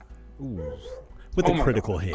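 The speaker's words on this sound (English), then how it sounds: "Sorry about my dogs." Dogs bark and yip in a home during a live tabletop Dungeons & Dragons game, a few sharp nearby barks and whimpers mixed with people talking and exclaiming over them.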